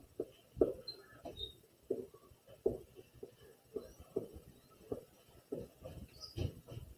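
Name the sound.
drawing a circle above a number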